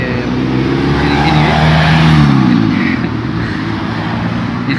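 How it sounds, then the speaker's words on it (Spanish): Cars go by outdoors in a steady broadband rush with engine tones rising and falling, loud and continuous for a few seconds, with one vehicle swelling to a peak near the middle. "Mientras que pasan los autos"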